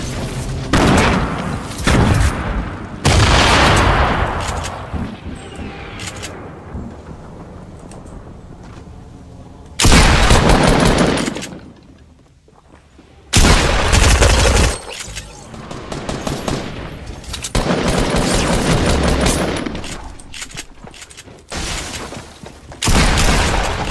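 Gunfire in a Fortnite-style battle royale game during a solo versus squad match, with loud bursts of rapid shots and booming blasts repeating in clusters and separated by brief lulls.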